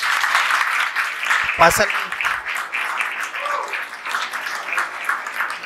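Applause from an audience at an education event on building an equitable, plural society, a steady broadband patter of many hands throughout, with a voice speaking briefly over it.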